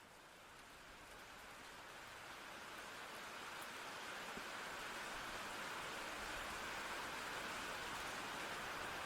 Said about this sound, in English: Okay, so we go out walking in the rain.